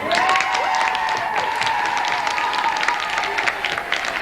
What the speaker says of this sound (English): I got one crowd up here in the middle going crazy